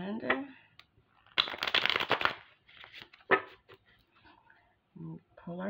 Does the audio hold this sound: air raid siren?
no